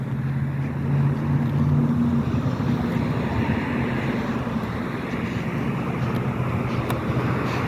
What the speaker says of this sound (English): It might actually be too windy, you know.